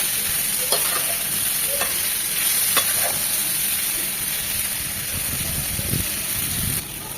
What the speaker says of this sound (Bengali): মশলার সাথে আলু আর ফুলকপির সাথে কষিয়ে নেওয়া যায়